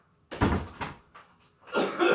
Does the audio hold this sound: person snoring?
no